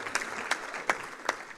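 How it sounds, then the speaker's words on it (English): A handful of sparse claps ring out at a labour programme launch ceremony, spaced at a steady, slow rhythm over a soft room background and fairly distant. "a round of applause to her as well for all of that."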